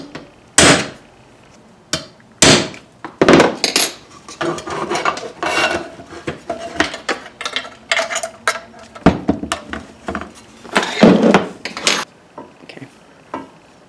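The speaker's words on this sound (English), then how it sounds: "So we are going to mark these with a little transfer punch, and then we're going to drill the holes." A hammer taps a small transfer punch to mark screw holes through a front plate for a rugged radio console mount. The sharp metallic strikes come in irregular bursts, close and fairly loud, with faint shop handling sounds between them.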